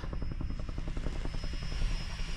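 Steady rhythmic thudding of helicopter rotor blades with an engine drone, moderately loud and sustained throughout, over the Bewcastle Fells at dusk.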